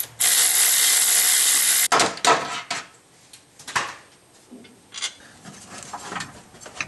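A ratchet wrench working a 13mm alternator bolt on a 2008 Dodge Avenger engine: a loud, steady whirring burst comes first, then scattered ratcheting clicks and metallic knocks, close up.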